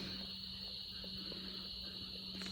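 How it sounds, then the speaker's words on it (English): Frogs and insects chorusing at a summer sunset outdoors, a faint continuous high trilling drone with steady background hum, no talking. "Frogs are singing."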